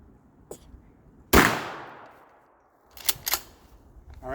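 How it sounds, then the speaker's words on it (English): A shotgun firing a slug outdoors: one loud, close blast with a long decaying echo, preceded by a small click and followed by clattering metallic action-cycling sounds. "So to get a real accurate reading of where everything's going, I'm going to shoot a slug."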